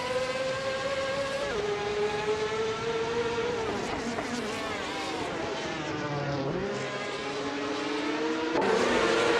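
A Ferrari F355 Challenge race car in a racing video game screams along with a high, whining engine tone that shifts up and down through gear changes, steady and loud throughout.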